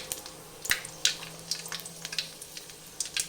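Chili sizzling and crackling in hot oil while cooking tomato rice, a steady fry with sharp pops and spits scattered throughout, close and fairly quiet, no talking.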